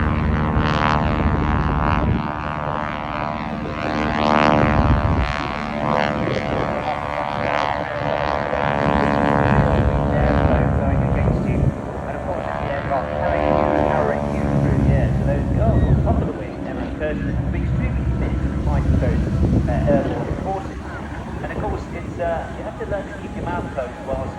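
Propeller aircraft fly at the Bournemouth Air Festival, a loud continuous droning engine with a buzzing tone that swells and fades in waves, while someone talks over it throughout.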